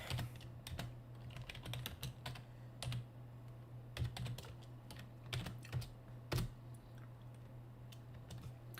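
Quiet, irregular clicking of keys on a computer keyboard, with bursts of fast keystrokes and short pauses over a faint steady hum.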